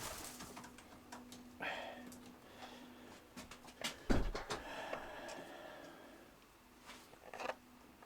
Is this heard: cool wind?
no